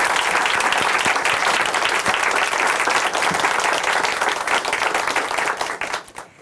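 A church audience at a Korean Christian testimony TV program claps for a guest in sustained, dense applause that holds steady and then tapers off near the end.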